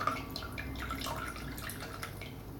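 A thin stream of water trickles and splashes onto floating tea lights on a kitchen floor, a soft, continuous patter with small drips, close and fairly quiet.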